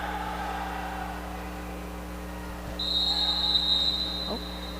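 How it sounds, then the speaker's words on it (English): A roller derby referee blows a whistle at a bout, heard as a shrill sustained blast rising over steady arena hum and crowd noise. "That was 4 whistles."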